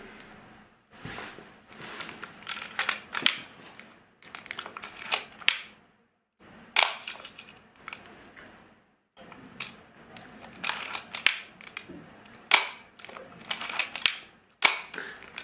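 A Canon P camera's mechanical shutter fires several times in close succession, crisp clicks with short pauses between them, heard up close with no talking.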